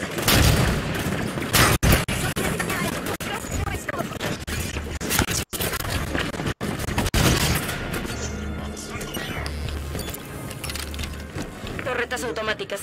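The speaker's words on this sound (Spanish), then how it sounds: "¡Fuego enemigo desde el montacargas!" Heavy gunfire rattles in bursts and booms throughout a Halo 5: Guardians firefight on Meridian Station, with game characters shouting over the shooting.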